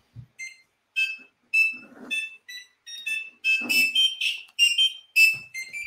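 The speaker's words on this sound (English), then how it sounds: "then you see that it's playing all these notes which were defined in this array." A Raspberry Pi buzzer running a Java program plays a quick run of shrill electronic notes at varying pitches, one after another in an irregular tune, loud and close with no voices.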